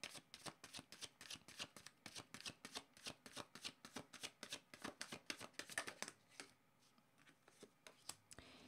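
Oracle cards are shuffled close up in a steady run of quick, crisp riffling flicks that lasts about six seconds, then thins out to a few softer scattered snaps.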